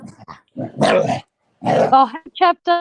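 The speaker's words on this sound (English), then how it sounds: "I hope that's the dog barking, growling." A dog barks and growls in a few short bursts at a birthday gathering, mixed in with people talking close by.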